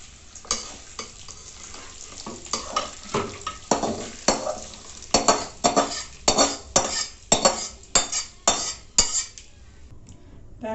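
Adamant creeper (pirandai) is sautéed on its own in a pan for a chutney, with rhythmic metal spatula scrapes and clinks against the pan over a low sizzle and no talking.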